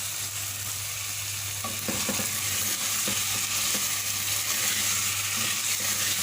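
Oil-free lemon pepper chicken cooking in a pan, a constant dense sizzle with a low steady hum and occasional stirring scrapes, close and uninterrupted, without any voices.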